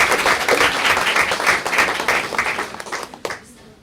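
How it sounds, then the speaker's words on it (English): Loud applause from the audience at a school board meeting, a dense burst of clapping that thins and fades toward the end. "Let's give a round of applause to our Yvonne and our other."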